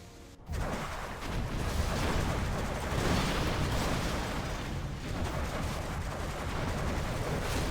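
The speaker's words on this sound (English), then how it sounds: "Some interesting buggy missiles there for a second." Missiles fire in a competitive real-time strategy match, a dense, continuous barrage of blasts and rumbling explosions that starts abruptly after a brief quiet moment and holds loud with no talking.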